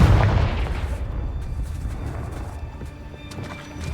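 Confringo fire spell cast in Hogwarts Legacy, a loud booming burst at the start followed by crackling, rumbling impacts and scattered sharp hits that fade slightly.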